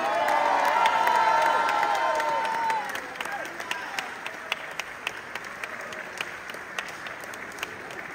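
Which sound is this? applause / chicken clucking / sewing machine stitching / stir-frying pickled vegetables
applause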